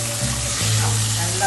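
Peas and paneer stirred in a hot pan, a brief steady sizzle under a low humming tonal background, close, with no clear stirring strokes.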